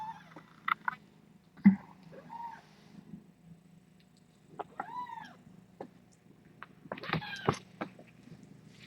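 A tiny kitten gives several short, high squeaks and mews scattered through a quiet indoor room, with a louder cluster of calls near the end.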